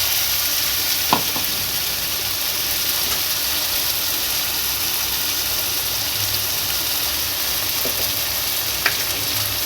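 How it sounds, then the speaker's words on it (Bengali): Chopped onion and tomato frying in a pan as the base for a meat curry, a steady low sizzle throughout with occasional faint clinks of a spoon, close and moderate in level, no voices. "মাংস রান্না করার জন্য প্রথমে পেঁয়াজটা ভেজে নিয়েছি, তারপর এর মধ্যে দিয়েছি টমেটো কুচি।"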